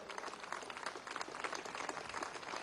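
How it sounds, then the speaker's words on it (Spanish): Audience applause for military officers at a Venezuelan Bolivarian National Militia commemoration ceremony, a steady, dense wash of clapping throughout, fairly faint and distant with no voices over it. "Un aplauso para estos oficiales."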